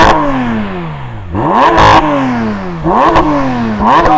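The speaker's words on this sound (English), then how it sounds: "Stationary revving, no question, that sounds the best." A stationary flat-six engine revs up repeatedly in quick bursts against a soft limiter, pitch sweeping up to a rasping peak then dropping back, loud and close.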